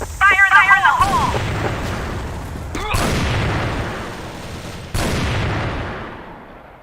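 A thrown grenade detonates in a video game, with sharp booms and crackling blasts landing in bursts, including a strong hit near the start and later explosions, over a game soundscape with brief synthetic tones.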